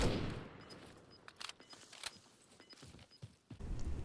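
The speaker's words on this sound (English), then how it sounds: "I ended up shooting at a rock, thinking it was a person" Bursts of gunfire in the Warzone video game as a player shoots at a rock, with several sharp rapid shots spread through the clip over low game ambience.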